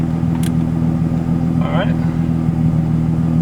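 A Nissan 350Z fitted with a nitrous system runs with a steady, loud low engine drone, with no clear surge of acceleration, while someone speaks briefly over it.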